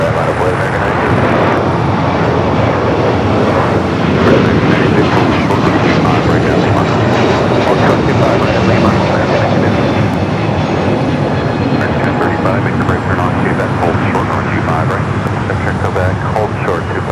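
A Hawaiian Airlines Airbus A321neo jet departs Los Angeles for Kona, a loud, sustained engine roar filling the whole stretch close by, while a voice talks over it.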